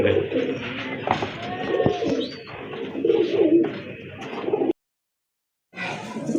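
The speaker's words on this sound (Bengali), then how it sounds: "আরেক জোড়া কবুতর দেখতে পাচ্ছেন, গোল্লা কবুতর" A pair of round pigeons coo close by in continuous low warbling for several seconds, then cut to silence before resuming briefly.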